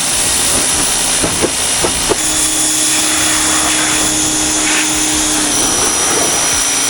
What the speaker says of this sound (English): me getting ready to power wash this bike, so we can make sure we have all the oil gone